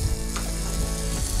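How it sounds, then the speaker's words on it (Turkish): Frying on a griddle with oil added, as for a toasted sandwich: a steady, dense crackling sizzle runs close and continuous, with faint scraping ticks and no voices. "Şimdi buna bir küçük yine yağ takviyesi yapacak kanki. Şöyle bir cızırdatacak onu."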